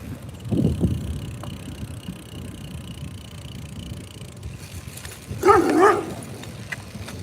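A dog barks at a passing cyclist on a morning bike ride through a residential neighborhood. A lower bark comes early, then a louder, sharper bark near the end, over continuous rolling wind and road noise.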